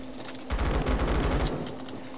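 A G36 rifle in a video game fires a rapid automatic burst of about a second, dense, rhythmic cracks close and punchy, alone over a faint background hum.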